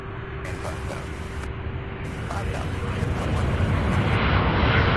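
UPS cargo jet on flight from Portland, Oregon arriving late at Louisville's SDF airport, a broad engine roar that swells steadily louder as it nears, with intermittent high hiss and faint background voices.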